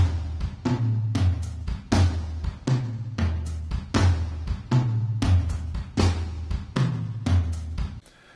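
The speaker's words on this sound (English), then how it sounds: "if we listen to the Groove Agent drums, they sound like this." Drums from the Groove Agent plugin in Cubase, tuned lower, play a steady repeating groove with deep, boomy kick and snare hits and bright cymbal strokes, close and alone.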